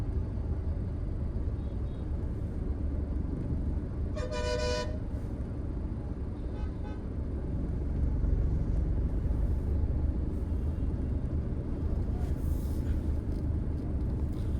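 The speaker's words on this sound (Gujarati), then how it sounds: "અને પાછળ બે બસો ભેગી થઈ ગઈ છે, એટલે નસવાડીના બજારમાં ટ્રાફિક થઈ ગયું છે." Congested traffic in the narrow market streets of Naswadi, Gujarat, with bikes and two buses jammed together: a constant low engine rumble, one short sharp horn toot near the middle, and faint distant honks later.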